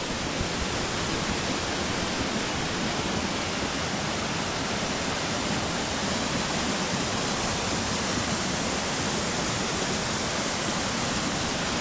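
A waterfall in the Sebes-Körös gorge, swollen and muddy with floodwater, roars as a loud, steady, unbroken rush of falling water filling the whole scene.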